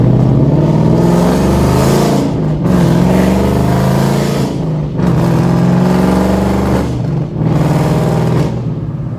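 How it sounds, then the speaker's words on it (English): Chevrolet Camaro ZL1 passing in the rain, heard from inside a moving car as a loud, steady engine roar and road rumble with rising and falling surges in waves. "Ooh, that Camaro going by."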